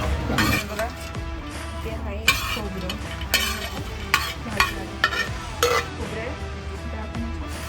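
Fenugreek laddu ingredients roasting in a pan, with dry sizzling under frequent metal scrapes, clinks and stirring knocks of a utensil against the pan. Faint voices can be heard in the background.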